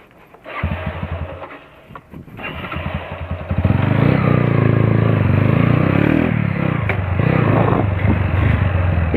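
A motorcycle exhaust at a lowered car and motorbike meet sputters, then revs hard into a loud, sustained roar that stays near and dominant to the end.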